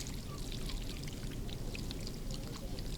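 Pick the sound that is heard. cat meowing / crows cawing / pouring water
pouring water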